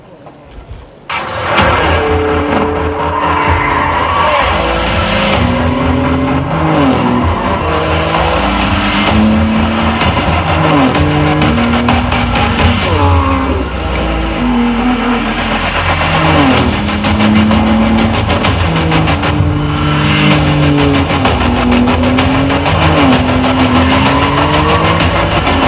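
Porsche 911 GT2 RS sports car engine revving loudly on a stage at the Canadian International AutoShow in Toronto, sustained throaty revs rising and falling for about twenty-five seconds, close and dominant over crowd noise.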